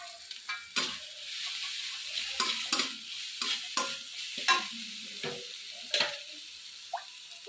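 Masala spice paste with Kashmiri chilli powder frying in a pan for a pointed gourd and prawn curry, with a steady sizzle broken by a series of spatula scrapes and knocks, close and fairly loud.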